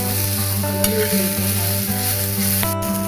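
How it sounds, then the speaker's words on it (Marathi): Chopped onion fries in oil in a pan while cooking a spicy village-style mutton curry, giving a steady, loud sizzle with a constant hiss throughout and no talking. "कांदा लाल भाजून घेऊया."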